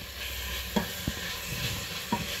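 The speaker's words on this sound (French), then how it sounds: "Bon, je laisse frire un tout petit peu." Ingredients for Cameroonian ikok Bassa frying in oil in a pan, a soft continuous sizzle broken by a few sharp utensil taps and scrapes, close and without speech.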